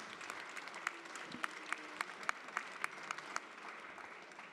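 Scattered clapping from a conference audience at an international colloquium on productivity and carbon balance, a light steady patter with a few sharper claps standing out, fairly distant.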